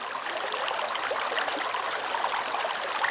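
Steady rushing and trickling of the Bear River flowing past a sluice box, a continuous close wash of water with no voices.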